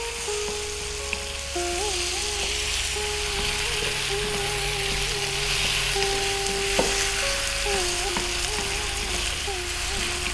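Chicken coated in garlic ginger paste, turmeric and salt sizzles steadily in a pan and is stirred often, a constant close frying hiss with occasional scrapes, while a voice speaks over it.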